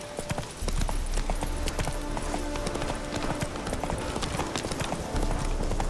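Hoofbeats of Roach, Geralt's horse in The Witcher 3, clip-clop steadily and close over continuous game ambience, a repeating trotting rhythm filling the whole stretch.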